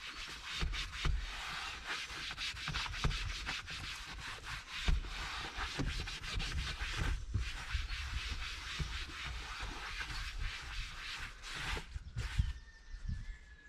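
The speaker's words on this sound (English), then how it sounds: "put your mitt on and then rub it in." A mitt rubs cleaner into leather with a steady, quiet, continuous scrubbing and scratching, close up and with no talk.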